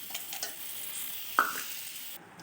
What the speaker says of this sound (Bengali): দিয়ে দিচ্ছি একটা শুকনো লঙ্কা